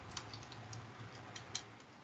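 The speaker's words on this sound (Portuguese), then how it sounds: "O teclado está incomodando, galera?" Faint, steady computer keyboard typing, soft irregular clicks over a low background hum during an online class, with no talking.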